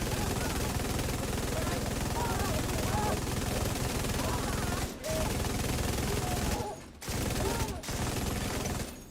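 Dense, continuous gunfire in The Division, a steady loud fusillade of overlapping shots with a few brief drops, and no one speaking.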